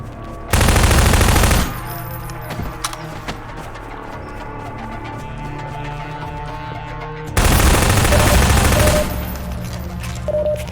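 Video game gunfire comes in two loud sustained bursts of rapid automatic fire, with a quieter stretch of game ambience and scattered sounds in between.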